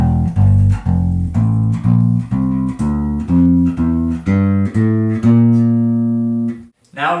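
Bass guitar plays the first leg of an advanced scale exercise, a steady sequence of roughly a dozen sustained single notes, close and prominent, ending with a final held note and no speech.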